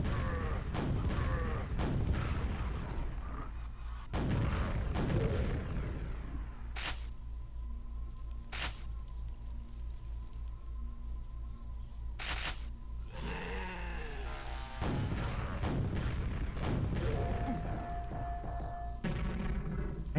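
Missile launcher fire in the video game Quake, heard as a series of deep booming thuds and explosions at irregular intervals, mixed with game effects and an occasional tonal hum.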